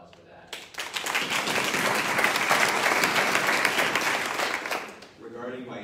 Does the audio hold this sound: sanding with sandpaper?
no